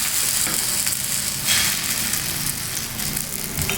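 Egg-coated bread fries in a hot pan with a steady, close hiss and crackle of sizzling, swelling briefly as the bread settles, with no talking.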